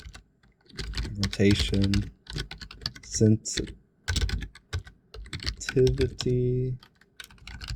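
Computer keyboard typing in quick bursts of clicking keystrokes, close and clear, alternating and overlapping with a person speaking.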